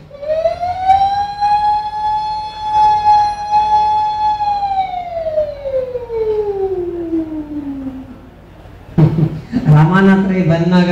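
A voice imitates a police jeep siren with a long, loud, steady wail that slowly falls away. Then a short burst of talk follows.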